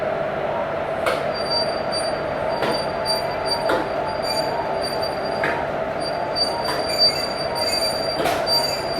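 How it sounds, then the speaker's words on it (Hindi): Railway yard scene as a WAP 4 electric locomotive couples onto a passenger sleeper express train, with steady rumbling rail noise, faint metallic squeals and several brief clanks spaced through the clip, no talking. "अपने लोकोमोटिव की यहाँ पर कपलिंग हो गई, रिवर्सल हो गया सक्सेसफुली।"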